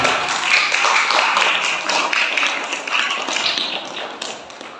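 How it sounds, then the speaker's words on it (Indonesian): An audience at the final of a Ramadan quiz competition bursts into sustained applause, with many hands clapping in a busy, even patter that is loud and close and then tapers slightly toward the end. "Boleh tepuk tangan."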